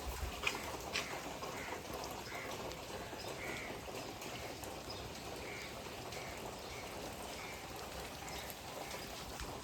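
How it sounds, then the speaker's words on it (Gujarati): Monsoon rain falls steadily outdoors, a dense even patter with occasional drips, and a crow caws faintly in the distance. "આજે ગાઈસ મસ્ત વરસાદ પડ્યા કરે જોવો તમે"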